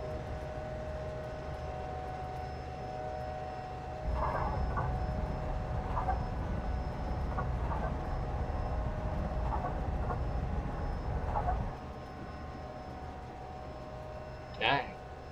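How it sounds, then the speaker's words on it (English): A long freight train rolls past in a Train Simulator 2017 railway scene, its steady rumble with faint clacks building suddenly, holding for about eight seconds, then dropping away, with a brief higher tone near the end. "This is a long train."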